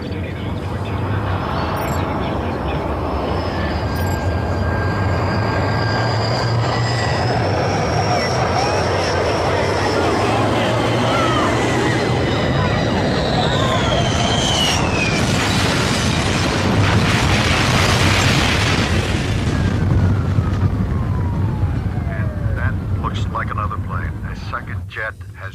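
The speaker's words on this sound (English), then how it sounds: "jet has just streaked in from behind. It has slammed into the World Trade Center." Jet airliner streaking in and slamming into the World Trade Center tower, a loud sustained engine roar building into a broad explosive blast, heard under continuous talk.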